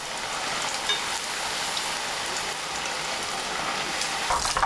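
Battered mushrooms deep frying in hot oil for mushroom tangsu, giving a steady, dense crackling sizzle that holds evenly throughout, close and moderately loud with no talk.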